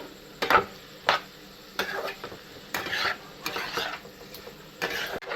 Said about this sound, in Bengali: মাশরুম কষায় জল দেবেন না ঢেকে ঢেকে গ্যাস কমিয়ে কষাবেন